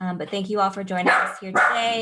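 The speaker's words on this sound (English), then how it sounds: "sorry for my barking dog" A dog barks several times in short bursts close by, overlapping with a person speaking steadily throughout.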